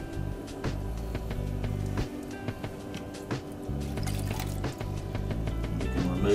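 Water is added to clay spinning on a pottery wheel. Wet, dripping and sloshing sounds run continuously up close over the low whir of the wheel, with no talking.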